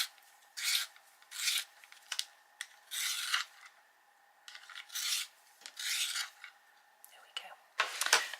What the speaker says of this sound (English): I'll give it a sharpen.